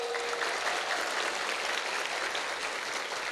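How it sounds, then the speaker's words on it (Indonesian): An audience at an Islamic boarding school celebration applauds the Nurus Soleh pesantren foundation, many hands clapping in a sustained, even, moderately quiet roar with no pauses. "Tepuk tangan untuk Yayasan Pondok Pesantren Nurus Soleh."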